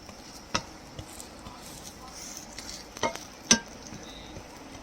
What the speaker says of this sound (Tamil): மேலே கொஞ்சம் நல்லா எண்ணெய் விட்டுக்கோங்க. மேலே லேசாக கரண்டியெல்லாம் கொத்தி விட்டுங்க, சீக்கிரமாக வெந்துடும்.